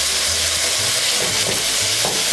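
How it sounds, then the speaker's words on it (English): Loud, continuous sizzling and crackling of ground meat browning in a hot pan for lasagna soup, with no voices. "as you can hear, our meat is sizzling away"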